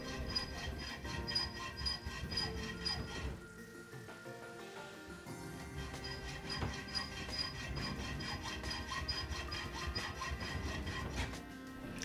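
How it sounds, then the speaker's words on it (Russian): A hand saw cuts a guide slot into a metal angle with steady back-and-forth rasping strokes that pause briefly midway, then resume at an even rhythm. The sound is faint and close. "без спешки начинайте пилить, периодически проверяя, насколько ровно это у вас получается"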